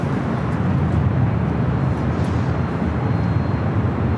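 Heavy jet airliner taking off from runway 25 left at LAX, a steady, loud, broad engine roar with deep rumble holding throughout.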